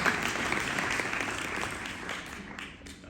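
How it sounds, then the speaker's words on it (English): A conference audience claps in a sustained round of applause that is loud at first and gradually fades out over a few seconds. "Who wants to give me a round of applause?"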